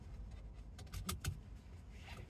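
A car seat belt pulled across and buckled inside a vehicle, faint sliding rustle then a couple of sharp metallic clicks close by, over quiet cabin hum.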